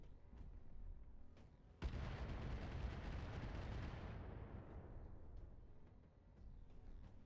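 Artillery fire in the BattleTech video game: a sudden heavy blast opens a dense, roaring barrage that holds for a couple of seconds and then slowly rumbles away, with sporadic smaller cracks before and after.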